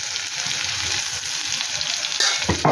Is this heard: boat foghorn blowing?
no